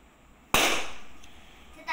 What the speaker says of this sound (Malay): Seperti biasa, belon dicucuk akan meletup.